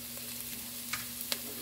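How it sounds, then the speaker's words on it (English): Onions sauté in a pan with a soft, steady sizzle and a few faint scraping stirs, heard close at low volume. "She's sauteing down the onions, making sure they get cooked together very well."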